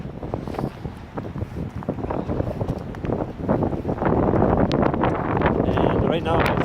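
Gusty seaside wind at an old ferry terminal on the coast, blowing at about 30 km/h, buffets the microphone in loud rushing bursts that swell and ease throughout.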